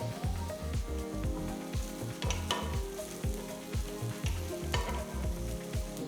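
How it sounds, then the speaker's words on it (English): Onions and slit green chillies fry for a mutton masala, giving a loud, continuous sizzle with a rhythmic, pulsing texture throughout. "Saute the onions till they're a nice brown color."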